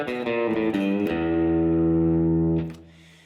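A distorted electric guitar plays a short phrase from the E blues scale in open position; quick plucked notes lead into one long ringing sustained note that fades out.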